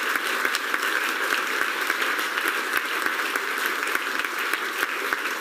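Audience applause fills a decorated festival hall during a folk music broadcast, a dense, steady clapping that carries on evenly throughout without voices.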